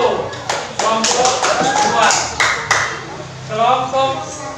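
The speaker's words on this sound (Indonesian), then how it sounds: "Tepuk tangan buat Niko." Students in an elementary classroom clap for their classmate Niko during a lesson, giving a scattered burst of close, sharp handclaps over about three seconds, mixed with children's voices and followed by talking.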